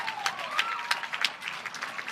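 A tournament crowd at the Red Rock Open applauds after a long rally, a short burst of scattered clapping and cheers with a faint whistling tone under it.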